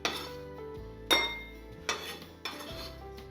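A small bowl clinks and knocks on a kitchen counter as chicken is put into it, four sharp, close ceramic taps with short ringing tails separated by quiet gaps.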